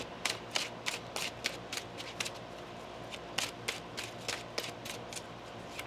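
Tarot cards are shuffled repeatedly by hand, producing a quick, rhythmic series of crisp riffling flicks up close.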